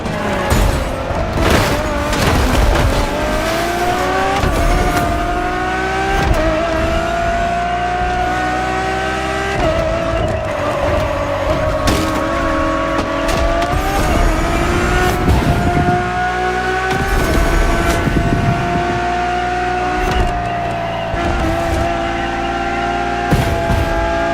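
A Ferrari supercar, a road-legal Formula One-style machine, races in The Crew Motorfest with a loud, sustained engine note that rises and falls through gear changes, with bursts of revving and tire noise and no talking.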